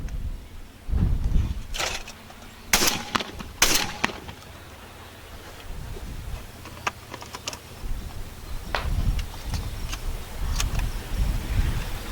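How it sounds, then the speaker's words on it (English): Remington 11-87 Sportsman Super Magnum semi-automatic shotgun firing Challenger rounds at a range, several sharp loud shots spaced a second or so apart, with quieter clicks and handling sounds between them. "we're going to put some more rounds down range"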